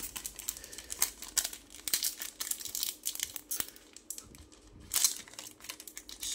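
A sealed Minecraft trading card pack is torn open and unwrapped up close, with crisp crinkling foil, tearing and rustling in irregular bursts.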